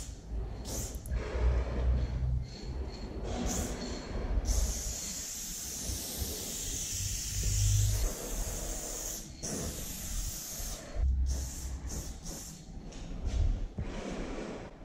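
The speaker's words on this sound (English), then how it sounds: "Now I start doing the outlines with a darker Montana gold spray can with a level 1 skinny cap." A Montana Gold spray paint can fitted with a level 1 skinny cap hisses in long and short bursts while outlines are painted on an indoor wall of an office building, with a rattling can and steady background rumble between sprays.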